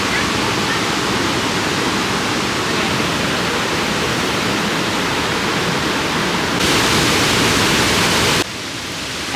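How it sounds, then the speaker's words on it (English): Bingham Falls in New England roars in a loud, steady wash of rushing water, heard close up, with a brief change in the roar near the end. "We made it to Bingham Falls."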